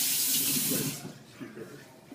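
Water runs from a kitchen tap as hands are rinsed, a loud steady hiss of flow that fades out after about a second, with faint talk underneath.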